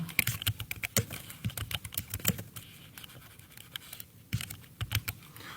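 Rapid key clicks on a computer keyboard while typing a footnote in Microsoft Word, in irregular bursts with short pauses, close and fairly quiet with no speech.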